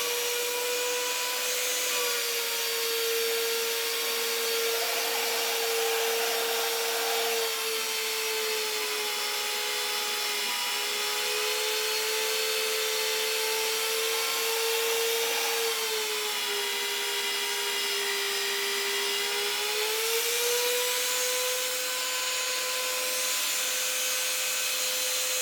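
A VEVOR 1300W magnetic drill press bores through 3/32-inch carbon steel, a loud steady high-pitched motor whine with metallic cutting, its pitch dipping and rising as the bit bites, continuous and close for about 25 seconds.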